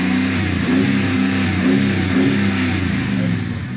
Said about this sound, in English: Hit the gas a little bit.